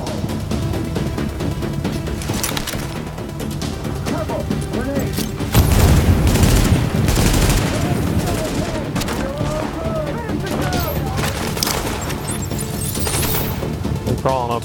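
Gunfire in The Division video game, with a sniper among the shooters: scattered shots and bursts throughout, a heavy booming volley in the middle, and someone talking over much of it.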